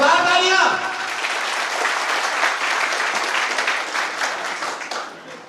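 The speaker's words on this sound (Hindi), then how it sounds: "तालियां बजाओ, जोरदार तालियां" An audience claps loudly at the opening ceremony of a health care and educational complex in Buxar, a full burst of applause that holds steady and then tapers off at the end.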